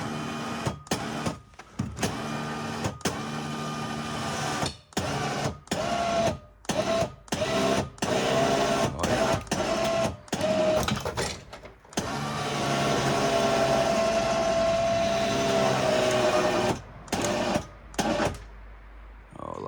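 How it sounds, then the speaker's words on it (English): Mechanical whirring and grinding from a winch rigged to turn a large log over at a sawmill, steady and close with brief stops and a long continuous pull, along with intermittent clanks. "I'm hoping that the winch, I hope I've got it rigged up properly where it will turn the log over for me."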